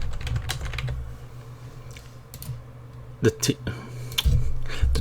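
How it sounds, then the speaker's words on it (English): Rapid clicks from typing on a computer keyboard, close and uneven with short bursts and pauses, while a person talks over them. "let me just type this in."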